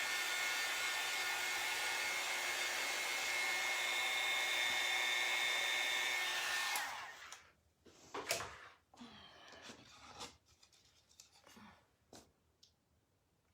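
A hair dryer blows steadily and loudly up close while drying a painted black board, then cuts off, leaving a few soft clicks and handling noises in a quiet room.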